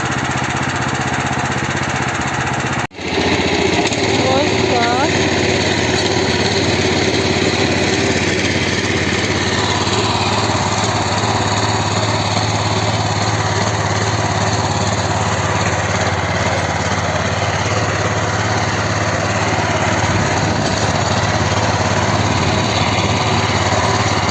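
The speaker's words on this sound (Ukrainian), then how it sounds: "пробуємо копати мотоблоком" The engine of a walk-behind tractor drones loud and steady as it pulls a homemade potato digger through a field, with one brief dip near the start and then continuous running.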